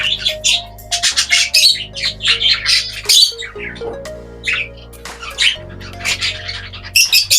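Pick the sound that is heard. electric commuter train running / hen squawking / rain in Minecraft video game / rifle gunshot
hen squawking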